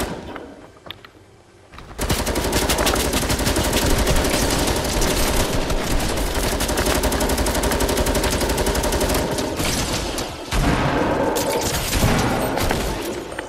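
A light machine gun in Fortnite rattles off sustained rapid bursts after a brief quiet start, loud and continuous with a short pause before firing resumes.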